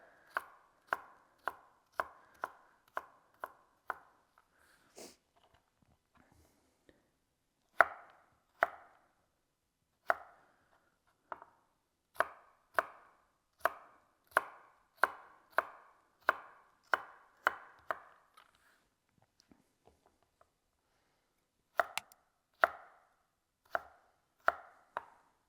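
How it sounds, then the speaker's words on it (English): A knife chops carrot and onion on a board in rapid, even bursts of crisp, close taps, pausing briefly now and then before resuming, with no talking. "I want to cut the carrot and the onion"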